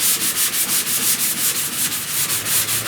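Rhythmic back-and-forth rasp of a sanding block working body filler on a car panel, steady repeated strokes about every quarter second, close and alone with no talk.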